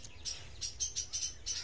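A black pigeon chick perched up on a shelf gives a run of soft, high repeated chirps, about seven short peeps in an uneven rhythm, faint and close against a quiet background.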